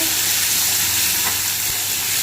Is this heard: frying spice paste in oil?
yes